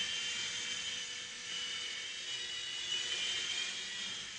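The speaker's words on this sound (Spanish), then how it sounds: "vamos a hacer la prueba del helicóptero de 4 hélices y 4 canales" Small four-rotor, four-channel toy helicopter with four independent motors spinning steadily, a continuous high-pitched whir that holds even in level and stays close throughout with no voices.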